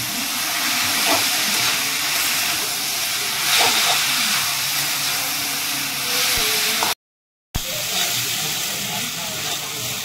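Cabbage filling cooking in a pan with red chilli sauce, soy sauce, ketchup and vinegar, giving off a loud steady hissing sizzle and steam with occasional stirring scrapes, broken by a short silent gap.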